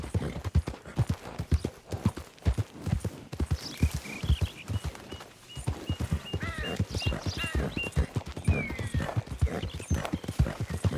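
Horse hooves clip-clop steadily in a fast, rhythmic gallop through Red Dead Redemption 2 gameplay, loud and close, with a few faint whinnies and game sounds layered in the background.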